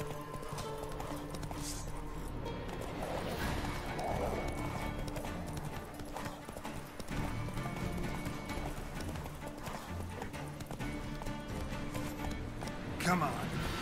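A horse gallops in Witcher 3: Wild Hunt, its hoofbeats pounding in a continuous rhythm over game music, with a voice talking at times.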